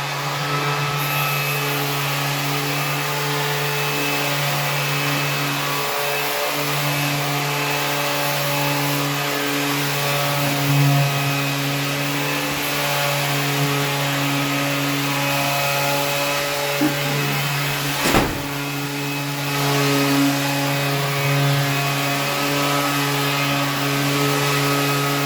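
A Ryobi power tool works on drywall while patching a crack, giving a steady, loud motor whine that runs unbroken for about twenty-five seconds with a brief dip partway through.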